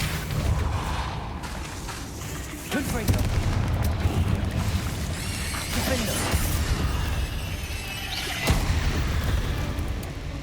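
Confringo blasting spells burst in a Hogwarts Legacy battle, dense booming explosions and crackling impacts layered over continuous loud combat noise, with a sharp blast standing out near the end.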